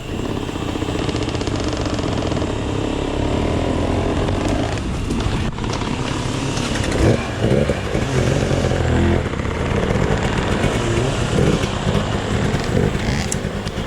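A dirt bike engine roars loud and close through a hard enduro amateur qualifier race over rough terrain, its revs rising and falling continuously with no break.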